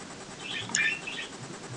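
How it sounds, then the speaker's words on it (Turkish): Pet birds chirping indoors, a brief cluster of high, quick tweets rising midway through over low room noise, faint and short. "Kuşlarım ötüyor."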